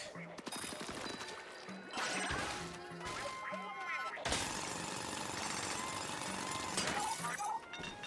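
Bot drilling a crystal in Splatoon Raiders, harsh grinding and shattering bursts with rhythmic thuds, loud and continuous across about eight seconds, briefly cutting out midway.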